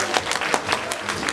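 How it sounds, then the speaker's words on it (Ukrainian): Audience applause at a student-of-the-year competition on stage, a short burst of dense clapping from a crowd heard up close, steady and even throughout. "Ваші оплески!"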